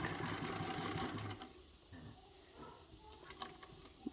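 A sewing machine stitches a fabric caddy in a rapid, even mechanical run for just over a second, then stops, leaving quieter handling clicks and rustles.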